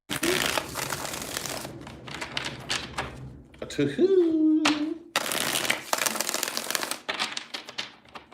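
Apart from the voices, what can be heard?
shuffling tarot cards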